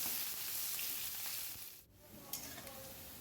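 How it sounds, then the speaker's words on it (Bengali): Bitter gourd fries in hot oil with a steady, dense sizzle and crackle, close up, with a brief dip and a few sharp pops. "তেলের মধ্যে উচ্ছেটা আগে দিয়ে নিলাম। উচ্ছেটা একটু ভালো করে আগে ভেজে নেব।"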